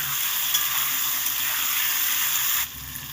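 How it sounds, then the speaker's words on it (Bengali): Diced potatoes frying and being stirred in a pan, with a dense, even sizzle close up that drops a little in loudness near the end. "আলুগুলোকে বেশ লাল লাল করে ভেজে নেব সব আলুগুলোকে দিয়ে দিলাম এবার ভালো করে একটু নেড়ে চেড়ে দেবো"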